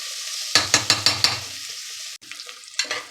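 Whole spices, green chillies and onion frying in ghee and oil for chicken pulao, a loud steady sizzle broken by a run of five sharp stirring scrapes and clacks near the start, then a brief pause and more scattered clinks.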